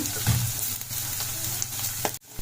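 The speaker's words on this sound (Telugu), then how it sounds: "మిగతా కాకరకాయ ముక్కలు కూడా అలానే ఫ్రై చేసుకోవాలి" Bitter gourd pieces fry in oil in a pan, a steady close sizzle with occasional stirring clinks, ending in a sudden brief drop.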